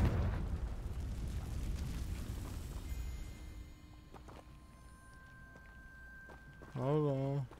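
A Confringo fire spell blasts in the video game Hogwarts Legacy, a dense rumbling burst that fades under game music, followed by a brief louder magical whoosh near the end.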